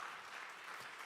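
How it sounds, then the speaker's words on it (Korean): Congregation applauding at a Friday night church service, a brief, faint, steady wash of many hands clapping with no distinct individual claps standing out. "우리 한번 박수로 한번 격려할까요?"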